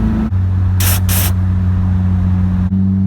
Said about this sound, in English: You can hear the tone of the exhaust change when I spray.